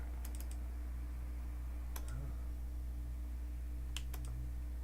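Sharp computer clicks come in a few small clusters, several quick close taps, then a pause and another pair, over a steady low electrical hum with no talking.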